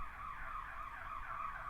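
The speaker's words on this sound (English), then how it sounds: "Oh, I heard ambulances." A distant ambulance siren wails outside, faint and muffled, its wavering two-tone pitch sweeping up and down steadily with no other sounds over it.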